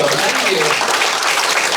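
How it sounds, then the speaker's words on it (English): Dense, steady applause fills a comedy club as the crowd claps for a former Black Hawk pilot on stage, a thick wash of sound with voices mixed in. "I would hold your applause though"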